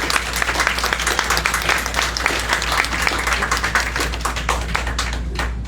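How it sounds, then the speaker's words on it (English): A crowd at a Revolutionary War commemoration event in Woonsocket, Rhode Island applauds the guest speakers, with many distinct hand claps forming a lively, steady ovation that continues throughout without voices. "Please give a round of applause to all of the guest speakers here today and everybody that has put together this event"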